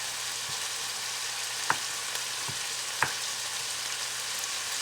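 Brussels sprouts frying in a pan give a constant close sizzle, broken by a few sharp scrapes and taps of stirring, with no voices.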